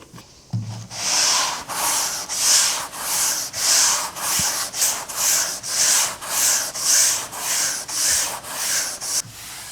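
Long rhythmic strokes of a spline sanding block over body filler on a Torana panel, about a dozen even back-and-forth rasps, close and steady with no talking.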